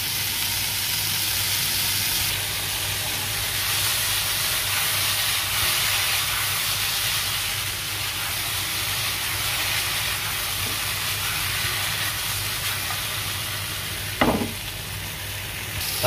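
String beans (sitaw) sizzle steadily in a pan as part of a ginataang tilapia dish, a continuous hissing fry that holds even throughout, with a brief stir or clatter near the end.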